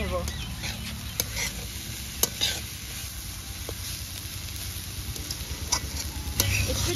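Banana flower sautéed in a pan makes a soft, fairly quiet sizzle with scattered stirring clicks and scrapes, while a voice speaks a word briefly.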